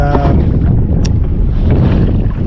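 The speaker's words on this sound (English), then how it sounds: "The wind's picking up a little bit" Steady wind rushes and rumbles across the microphone on open water in Tampa Bay, a dense continuous roar with faint splashing underneath.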